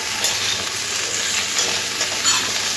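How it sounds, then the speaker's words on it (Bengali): Mixed vegetables for shukto frying and being stirred in a pan, a continuous sizzle with scraping stirs, close and steady, no voices. "সবজিটা খুব ভালো করে 5 মিনিট ভেজে নিয়েছি।"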